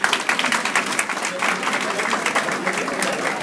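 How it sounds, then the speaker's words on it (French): An audience applauds an honoree, Mr. Kissima Kouyaté, at a Hope of Guinée award ceremony. Dense, steady clapping runs throughout without fading. "S'il vous plaît, applaudissez pour lui."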